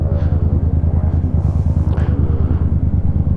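A motorcycle engine idles and pulls low and loud up close as the rider turns and eases the clutch out, a steady throbbing rumble with no talking.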